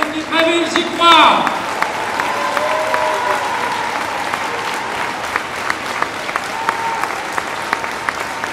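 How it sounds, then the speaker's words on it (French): An audience at a New Year's greetings event for a local civic group applauds a team, continuous dense clapping after a brief voice at the start, close and sustained. "On peut applaudir bien fort cette équipe."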